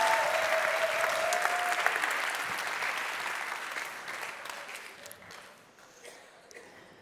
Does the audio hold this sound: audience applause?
yes